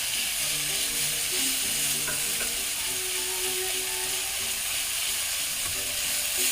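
Food sizzles and fries steadily in a pan as it is sautéed to brown for creamy garlic chicken, a continuous close crackling hiss with faint clinks of stirring.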